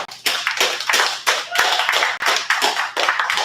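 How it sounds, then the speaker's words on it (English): Open mic audience doing practice claps at an improv slam, loud bursts of clapping that start and stop in short repeated waves, several rounds in quick succession. "You can practice clap for the homie."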